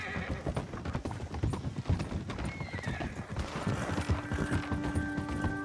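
A horse in the video game Red Dead Online gallops with rapid rhythmic hoofbeats, close and steady, and whinnies once partway through over the running footfalls.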